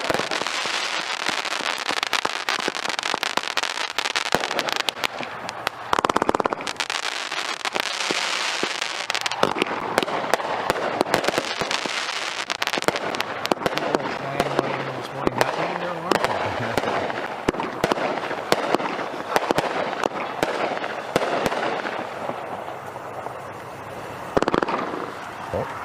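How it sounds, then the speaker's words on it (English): Fireworks display bursting continuously for a full minute during a morning news broadcast, a dense rapid barrage of loud crackling pops and booms, with voices talking over it. "That was a heck of a minute of fireworks, huh?"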